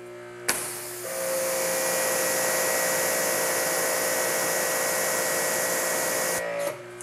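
A Ryobi 2700psi 1.1gpm electric pressure washer with a 1.55 orifice nozzle starts with a click, then holds a loud, steady motor whine and spray hiss for about five seconds before cutting off. No one talks.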